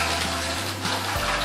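Tap water runs steadily into a kitchen sink during homemade pizza preparation, a continuous close broadband rush with no talking over it.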